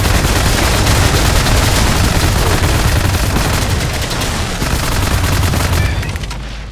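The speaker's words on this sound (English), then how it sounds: "it shoots fangs, just like the nail gun in Quake" Fang gun from the game WRATH: Aeon of Ruin, firing in a loud, continuous rapid stream of shots with heavy low-end thumps, sustained for several seconds before tapering slightly at the end.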